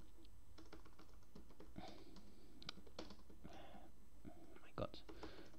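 Code being typed on a computer keyboard, a quiet, steady run of irregular key clicks at close range with a louder tap near the end.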